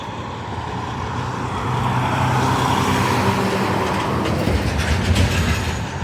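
A low, continuous rumble of a passenger train at a downtown station nearby, swelling slightly louder and holding steady with a faint rhythmic rattle, no voices.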